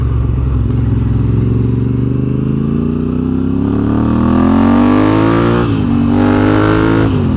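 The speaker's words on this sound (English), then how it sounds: "exhaust on this 24 Africa Twin" A 2024 Honda Africa Twin CRF1100 motorcycle exhaust revs up loudly and close, the engine note climbing steadily, dipping briefly, then rising again with no talk over it.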